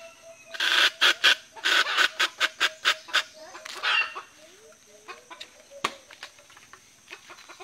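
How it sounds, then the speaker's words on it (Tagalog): A red junglefowl rooster squawks loudly in a rapid series of repeated calls, close by, then trails off into quieter clucks over a steady background hum. "Ingay ng manok na yan."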